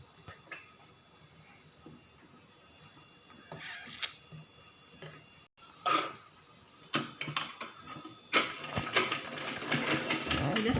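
A sewing machine stitches frills onto a baby frock in short, faint mechanical bursts of whirring and ticking that grow busier toward the end, with quiet handling noises between runs.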